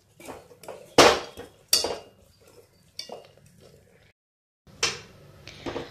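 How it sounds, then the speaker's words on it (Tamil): Ragi (finger millet) flour is stirred in a pot with a whisk, giving several sharp metallic clinks and scrapes against the pot in irregular bursts, close and clear, with brief pauses between strokes. "இதை வந்து நீங்கள் நல்லா கிளறணும்."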